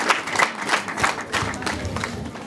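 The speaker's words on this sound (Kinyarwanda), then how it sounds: "Mushimire cyane n'amashyi menshi cyane" A crowd at a Rwandan wedding ceremony claps together in a brief, lively burst of applause, dense and fairly close, with a few faint voices underneath.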